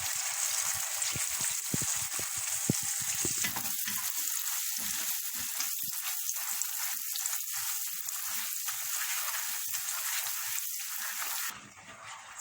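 Butter melts into hot melted sugar in a pan, producing a continuous bright, bubbling sizzle heard up close, easing off slightly near the end.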